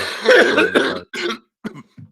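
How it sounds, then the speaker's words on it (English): A few rough coughs and throat-clearing bursts close to the microphone, the first long and harsh, followed by shorter spaced coughs. "Sorry, I'm coughing still."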